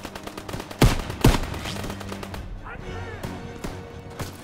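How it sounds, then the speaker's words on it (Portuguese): Gunfire in the World War II shooter Call of Duty WWII: two loud sharp shots near the start, then scattered distant rifle and machine-gun fire under a busy battle din. "estou a levar tiro, nem sei de onde"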